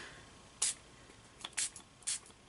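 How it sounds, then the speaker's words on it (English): Three short, sharp hissing spritzes of water from a spray bottle, spaced apart over a quiet background. "just give these a good spray, and we're just going to give them a spray with the water"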